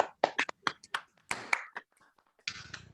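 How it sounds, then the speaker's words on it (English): Scattered claps from separate participants at an online Hall of Fame ceremony, a few irregular bursts of hand clapping with gaps of silence between, then a brief denser patch at the end. "let's give a final round of applause for our honorees"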